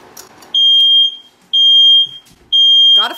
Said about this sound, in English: so at least we know that my fire alarm works.